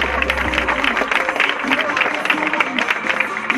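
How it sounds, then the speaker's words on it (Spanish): Crowd applause at a children's dirt track speedway event in El Palmar de Troya, steady dense clapping rising for the fourth-place finisher at the prize ceremony, with a voice talking over it. "Un fuerte aplauso, venga, ponte de pie"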